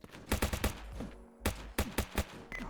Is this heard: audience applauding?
no